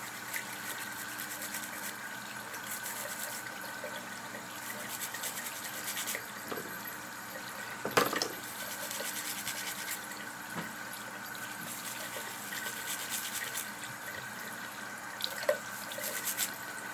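Warm water runs steadily from a tap into a sink, a continuous hiss-and-splash with occasional clunks and knocks, fairly close and moderately quiet.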